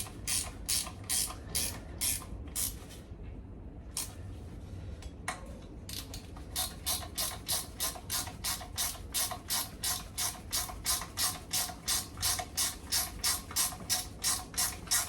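Rapid ratchet clicking as 6-point sockets are turned on the axle of a 212bhp Mk2 Escort RS2000, close and loud in steady bursts of strokes with a short pause partway through.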